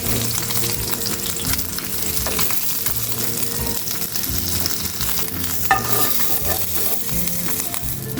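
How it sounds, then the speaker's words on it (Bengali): Gulsha fish sizzle steadily in hot oil in a pan, a continuous close crackle with occasional stirring scrapes and a brief clink, no voices. "এই মাছগুলো একটু সাবধানে ভাজতে হবে"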